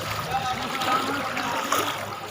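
Heavy monsoon rain pours amid rushing, flowing water, a dense and continuous hiss and wash with a voice faintly audible beneath.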